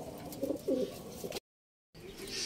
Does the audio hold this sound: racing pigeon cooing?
yes